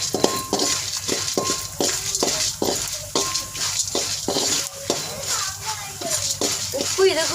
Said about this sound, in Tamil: நம்ம இதெல்லாம் ஒன்றாவே போட்டு வறுத்துடலாம்.